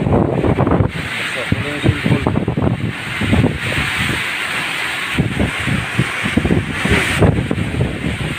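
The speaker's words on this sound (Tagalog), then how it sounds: "lakas ng hangin" Strong typhoon wind buffets the microphone in heavy gusts, rattling corrugated metal sheets, with voices talking over the roaring, rustling noise.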